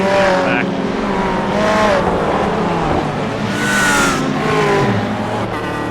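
Race car engines in an iRacing GT3 championship round at Lime Rock Park, a sustained loud roar with rising and falling revs as cars pass behind a safety car, with talk layered over it.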